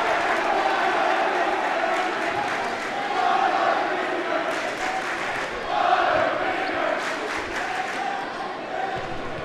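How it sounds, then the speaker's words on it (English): The Bishop Miege high school basketball crowd roars in a gym during a game against Aquinas, a loud, surging mass of cheering with swells of shouting and some scattered clapping. "And Miege crowd is letting Aquinas hear it right now."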